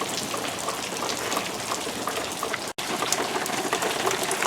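Steady, dense rain falls close by in a desert backyard and drips off a large house roof and balcony roof, a continuous hiss broken only by one brief gap near the end.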